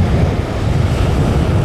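Strong wind buffets the microphone at the shore near the sea, a loud, steady, rumbling roar that blends with surf and carries no voices.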